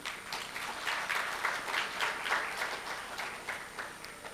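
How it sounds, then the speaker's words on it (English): A parliamentary meeting breaks into applause: steady, moderately distant clapping from many hands that fills the room for several seconds. "A second round of applause for them"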